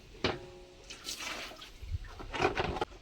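Water splashing and pouring while baskets and a mango-cutting blade are rinsed outdoors in a village, irregular gushes and drips at close range with a few clunks of handled items.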